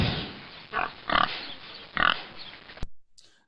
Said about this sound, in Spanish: Y el sonido del cerdo.